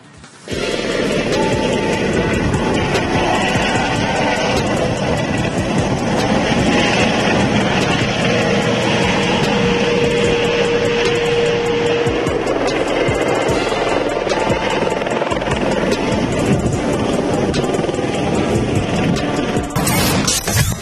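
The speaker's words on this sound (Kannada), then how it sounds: "ಜಾತ್ರೆಯಲ್ಲಿ ಹೆಲಿಕಾಪ್ಟರ್ ರೈಡ್ ಮಾಡುವ ಮೂಲಕ ನಗರದ ಸುಂದರ ದೃಶ್ಯಗಳನ್ನ ಕಣ್ತುಂಬಿಕೊಳ್ತಾ ಇದ್ದಾರೆ" A helicopter giving rides at the Hukkeri Mutt temple fair in Haveri roars loudly and steadily, its engine and rotor noise filling the whole stretch without a break.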